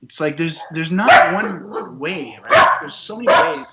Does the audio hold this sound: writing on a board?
no